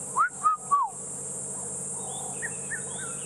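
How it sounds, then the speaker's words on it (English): Three clear whistled notes of a red-chested cuckoo in quick succession, loud and close, then fainter distant calls over a steady insect drone. "It's called a red-chested cuckoo."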